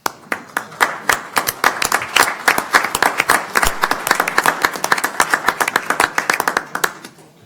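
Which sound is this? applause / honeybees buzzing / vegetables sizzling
applause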